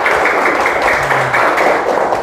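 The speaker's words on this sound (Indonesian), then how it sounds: "Tepuk tangan dong" Students in an Indonesian classroom lesson clap their hands together, a steady dense patter of applause lasting a couple of seconds, close and fairly loud.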